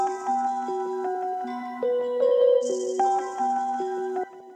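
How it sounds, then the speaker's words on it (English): A Rhodes piano line climbing the scale sits over layered melodies in a grimy boom bap beat, with stepped sustained notes and a bright high wash midway, fairly loud and free of talk. "That Rhodes layered with all the other melodies sounds like this."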